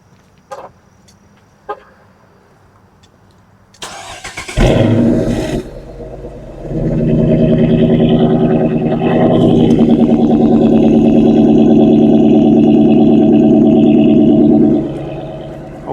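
2013 Dodge Charger R/T AWD with a V8 engine cranks and fires up after a few clicks, then settles into a loud, rumbling idle before a long sustained rev that drops away at the end.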